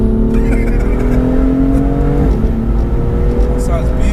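A tuned 430bhp BMW M2 GTS engine rumbles and revs loudly nearby, a strong steady drone with rising pitch, while people talk over it.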